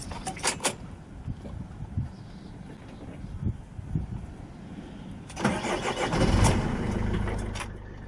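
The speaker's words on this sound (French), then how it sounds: "On les a utilisées et le moteur s'est rapidement mis en marche." A truck with a faulty preheating circuit, jump-started with cables, cranks with a few scattered knocks, then its engine catches near the end and settles into a steady, close idle rumble.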